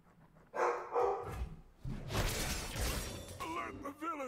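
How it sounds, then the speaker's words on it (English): A dog barks in a card-game battle sequence, a couple of sharp nearby barks early on, followed by a burst of crashing, whooshing game effects and brief tonal calls. "He's barking at something."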